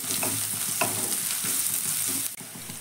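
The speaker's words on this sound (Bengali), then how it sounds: "এবার পেঁয়াজ আর লঙ্কাটাকে হালকা করে একটু ভাজবো।" Onions and green chillies fry in a pan with a constant close sizzle, while a spatula scrapes and stirs them in quick, repeated strokes; no talking.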